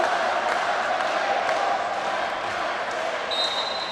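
Handball fans at a men's U18 championship match between Georgia and Belarus chant "Sakartvelo" in a steady, loud, dense crowd roar that fills the arena without pause.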